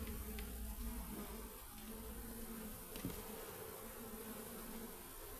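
Honeybees in an open hive make a dense, steady buzzing drone close by, loud and continuous, with no voices over it.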